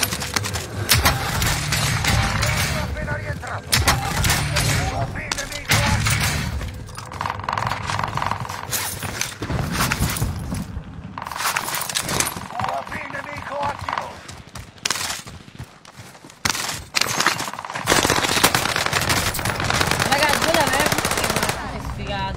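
Rapid gunfire bursts from a video game battle, dense and loud throughout, mixed with hoofbeats, horse whinnies and game effects while a player talks excitedly over the action.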